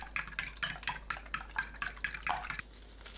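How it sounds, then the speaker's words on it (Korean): Beaten egg mixture with water being stirred in a bowl, quick rhythmic strokes of a utensil scraping and tapping, about a dozen close, fairly quiet swishes. "물 150ml 넣고 섞어줍니다"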